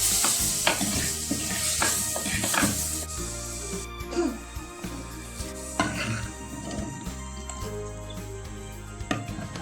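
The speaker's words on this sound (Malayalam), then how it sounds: "മല്ലിപ്പൊടി ഇളക്കി കൊടുക്കാം" A spoon stirs turmeric, chili and coriander powder into a simmering Kerala-style coconut fish curry, scraping and clinking against the pot in uneven strokes over a low sizzle, close up and without voices.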